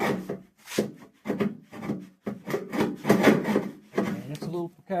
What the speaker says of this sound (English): I like to cut it with the hacksaw a little bit.